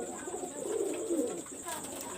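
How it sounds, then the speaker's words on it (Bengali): A Dabla pigeon coos close by, one low rolling coo swelling through the middle and a softer murmur after it, with no voices. "আমি এখন একটা কবুতর দেখাচ্ছি এটা ডাবলা কবুতর"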